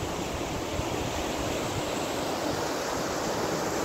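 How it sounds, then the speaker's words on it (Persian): A river in autumn at Kelardasht rushes with a loud, steady broadband roar of flowing water, close and constant, with no voices. "اینم رودخونه است. اینم پاییز زیبای کلاردشته."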